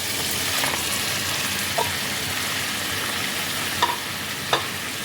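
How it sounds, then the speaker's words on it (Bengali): Fried pointed gourd stirred into a sizzling spice paste in a pan for Bengali doi potol: a steady hiss of frying oil broken by a few light scraping strokes, close and alone. "পটলগুলো দিয়ে মশলার সাথে ভালো করে মাখিয়ে নিতে হবে।"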